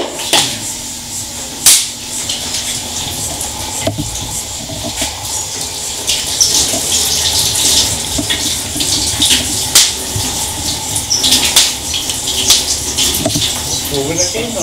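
Tap water runs steadily while hands are washed under it in a farmhouse kitchen, a continuous splashing rush with brief sharper splashes as the hands move through the stream.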